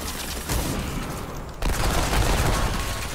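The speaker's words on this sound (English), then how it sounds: "Oh, somebody's shooting at us from the other side." Rapid gunfire from a fusillade in the video game Remnant 2, loud and continuous, swelling sharply partway through as shooting intensifies from across the map.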